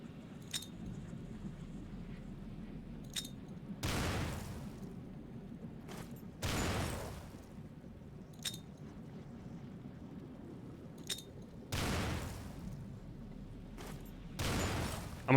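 Grenades in the game Stalker are thrown and burst in loud broadband blasts at regular intervals, with short metallic clinks between the explosions and a low rumbling ambience underneath.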